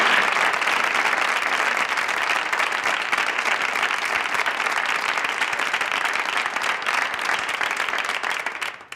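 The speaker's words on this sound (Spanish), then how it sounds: "Un fuerte aplauso." Steady, dense audience applause in a hall after a call for a big round of clapping at an education talk, loud and sustained for the full stretch before tapering at the very end.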